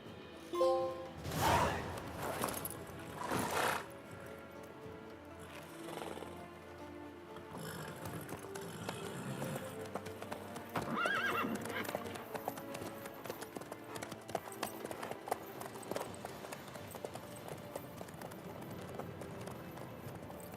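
Horse hooves in The Witcher 3 on PS5, making a steady, rhythmic clip-clop at a walking pace amid game music and ambience.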